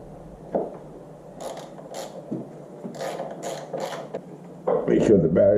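Screw being tightened down on the battery mount of a Harley-Davidson Electra Glide Ultra Classic motorcycle, heard as a series of short, close ratcheting clicks and mechanical creaks in bursts, with a louder clatter at the end.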